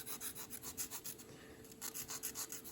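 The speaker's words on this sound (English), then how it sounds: "and then we are going to bevel" Rhythmic rasping as a knife bevels a New Italian style bassoon reed, quiet repeated back-and-forth scraping strokes in a steady close-up pattern with a brief pause midway.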